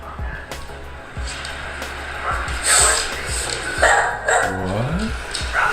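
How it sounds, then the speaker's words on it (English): A dog barks repeatedly in sharp, close bursts at an irregular pace, with some household noise and faint voices in the background. "He was just barking at the chair."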